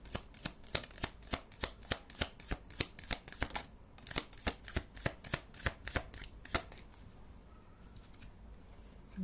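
Tarot cards are shuffled by hand in a rapid series of crisp, close slapping riffles at a steady rhythm for several seconds, then the sound thins into softer handling and no one talks.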